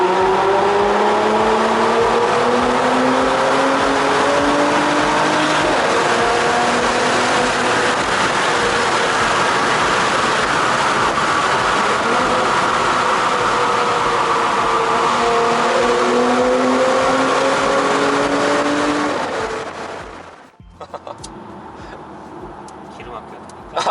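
Mercedes-AMG C43 with a twin-turbo V6 in Sport Plus mode roars loudly through a tunnel, its exhaust rising and falling through several gear pulls with echoing reverberation before cutting off abruptly near the end; voices talk over it.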